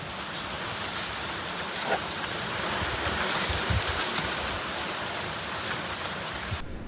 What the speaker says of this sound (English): nice and quiet apart from the palm trees. It sounds like it's raining all night when the wind blows through them